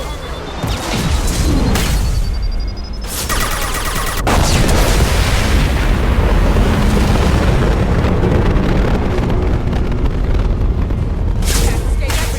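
A grenade blast in the Mass Effect 2 video game: a loud burst of explosive noise breaking over continuous battle sounds and a dense soundtrack, with a second sharp burst near the end.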